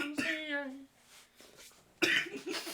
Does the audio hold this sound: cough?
yes